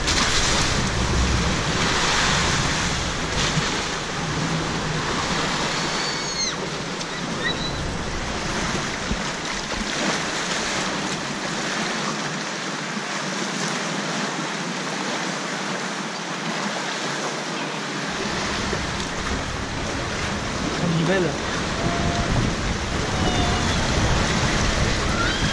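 Water rushing and surging around a round raft on the Rio Grande Rapid River ride at Fort Fun Abenteuerland, a steady loud wash of surf-like splashing with wind buffeting the microphone, no talk.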